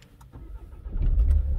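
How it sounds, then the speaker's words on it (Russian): A Peugeot 407 starts with a duplicate chip key: a brief starter crank follows faint clicks, then the engine catches and rises into a low, steady idle rumble, close by with no talk. "И второй ключик также сейчас машину заведет."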